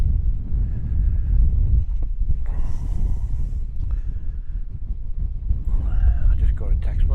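Strong wind buffeting an outdoor microphone in open countryside, a loud low rumble that swells and eases in gusts, with a few faint higher sounds breaking through at moments.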